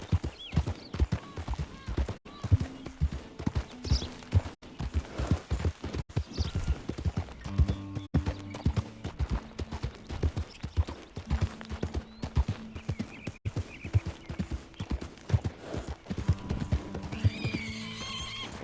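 A horse in Red Dead Redemption II clip-clops steadily with rhythmic hoofbeats throughout, broken by several drawn-out neighs and whinnies, with game ambience and occasional faint voices around it.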